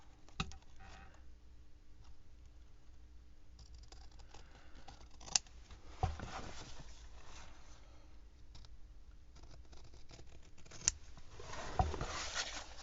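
Scissors snip through fabric at the corners of a fabric-covered book, giving quiet scattered clips and taps over a faint background hum, with no talking.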